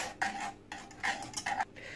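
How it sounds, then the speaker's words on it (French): A utensil scrapes around a saucepan of thickening cream in quick, rhythmic strokes, about four passes in two seconds, close up and with no voices. "Je vais remuer jusqu'à ce que la crème devienne épaisse."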